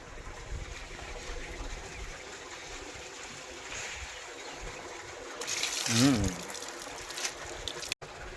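Water is poured over a sugarcane juice machine to rinse it, a short splashing gush around the middle over steady background noise, with voices nearby.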